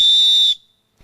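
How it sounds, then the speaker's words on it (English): A piercing, steady high-pitched blast from a jet scream signal whistle lasting about half a second, then cutting off abruptly into near silence. "This is the jet scream whistle, which can be heard at even longer distances."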